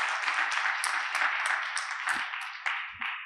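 Audience at an art museum's Tuesday talk giving a round of applause, a continuous, moderately quiet patter of many hands with a few sharper claps standing out toward the end.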